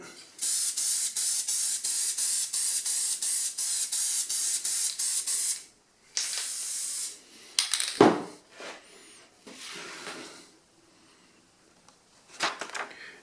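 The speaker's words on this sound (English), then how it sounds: "First thing I want to do is spray some spray adhesive on it." An aerosol can of spray adhesive sprays onto cedar wood in a long series of short, even hissing bursts, followed by a few clattering handling sounds and quieter hisses.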